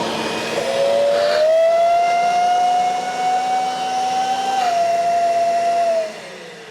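Kirby Sentria vacuum cleaner with its nozzle attached during a sealed suction test, a loud steady whine that rises in pitch, holds, dips briefly, then drops away near the end.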